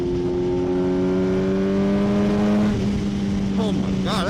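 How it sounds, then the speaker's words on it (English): A Kawasaki ZH2 supercharged motorcycle runs loud and close, its exhaust droning at a steady pitch before rising sharply in a quick rev with a chirping flutter near the end. "This thing sounds outrageous with the flutter, and the exhaust is just perfect."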